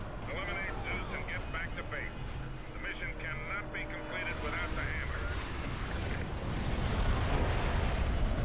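Tank cannon fire in Prototype sounds as deep booming blasts beneath game noise and a continuous rumble, with a person talking over part of it.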